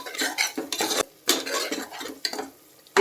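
Onions with rock salt sauté in a pan while a metal spoon stirs and scrapes against it, giving a series of close, loud scraping strokes over a soft sizzle, broken by brief pauses.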